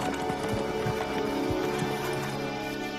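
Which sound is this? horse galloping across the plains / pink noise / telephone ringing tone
horse galloping across the plains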